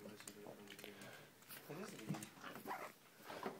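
Boston terrier puppies give small yips, whimpers and short barks in uneven bursts, close by, while people talk over them.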